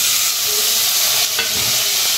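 Steady loud sizzling and hissing of tomatoes frying in hot oil over darkened onions, close up, continuous throughout with no voices.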